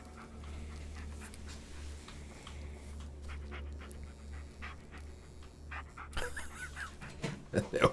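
A dog pants steadily and close in the horror game Blair Witch, with quick rhythmic breaths over a low droning background and a few sharper noises near the end.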